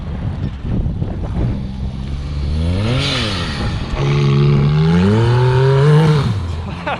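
A Can-Am X3 side-by-side with a cat delete and its electronic cutout exhaust open revs up twice, each rev rising and falling in pitch, close and loud.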